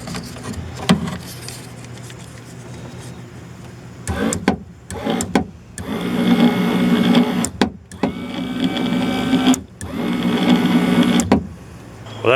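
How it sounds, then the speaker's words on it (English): A power window motor from a 1992 Ford Bronco whirs in several loud runs of a few seconds each, broken by short stops and clicks, close up on a workbench. "And there's the motor."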